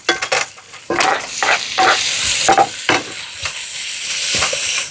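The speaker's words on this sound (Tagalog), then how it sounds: "Gigisa ko lang po itong sibuyas" Onion, garlic and ginger sautéed in hot oil for Ilocano-style pakbet: loud, close sizzling that flares in bursts as the pan is stirred, with scraping strokes and short pauses between them.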